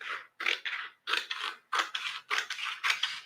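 Scissors snip through a paper ribbon transfer in a steady run of about eight separate crisp cuts, close and fairly loud, each short crunching burst split by brief pauses, with no voices.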